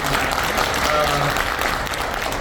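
Audience applause at a Korean talk concert marking the 63rd anniversary of May 16, a continuous burst of clapping from a crowd with voices faintly mixed in.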